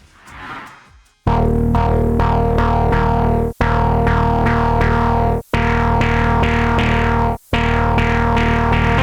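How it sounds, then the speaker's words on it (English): A synth lead patch, played as sustained loud chords in repeated phrases with brief gaps while its filter opens, the tone growing brighter and more distorted. "First, the opening of the filter."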